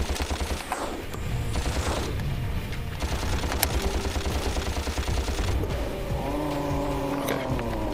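Shooting in Ratchet & Clank amid dense game action: rapid weapon fire and engine-like whooshing blend loudly and continuously, with a rising tonal effect near the end.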